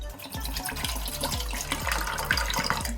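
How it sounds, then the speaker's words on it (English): Water splashing and gurgling steadily as one liter fills a pot, with a continuous running pour close by and small drips throughout. "you're going to pour your 1 liter of water into the pot."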